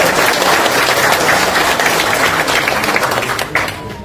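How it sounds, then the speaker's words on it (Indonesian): Audience at an Indonesian political party gathering breaks into sustained, loud applause, dense clapping filling the whole stretch and easing slightly near the end. "tepuk tangan untuk semangat kita"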